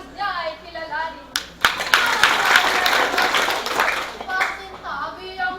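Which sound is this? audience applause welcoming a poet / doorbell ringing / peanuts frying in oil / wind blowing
audience applause welcoming a poet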